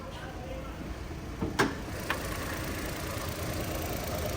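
A Suzuki Alto VXR 660cc engine idles steadily under an open hood during an automatic-transmission conversion, a low even hum close by with a couple of sharp clicks partway through.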